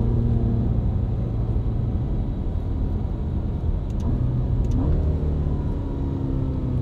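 An 8-cylinder Ferrari GT4 Lusso on a test drive gives a steady, close engine rumble with low road drone that holds throughout, no voices over it.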